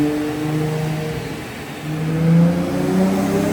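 A single-turbo, automatic, roughly 1000 hp Toyota Supra with a boosted 2JZ accelerates through quick shifts, its loud engine tone repeatedly climbing in pitch and resetting.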